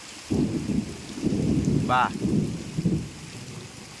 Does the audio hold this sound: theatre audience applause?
no